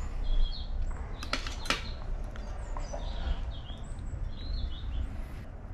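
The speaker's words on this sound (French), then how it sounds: "Mais c'est les oiseaux qu'on entend là? C'est le printemps déjà?" Birds chirp and call in spring, with scattered short tweets over a steady low outdoor rumble and no voices.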